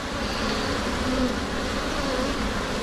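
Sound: honeybees buzzing around an open beehive

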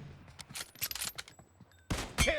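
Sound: Kar98 rifle gunshot in video game PUBG Mobile

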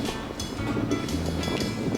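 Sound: waves on a reservoir lake by a moored raft

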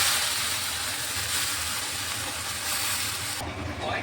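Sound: chopped taro leaves added to hot oil

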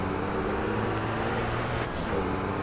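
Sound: truck driving in video game Formula Truck 2013

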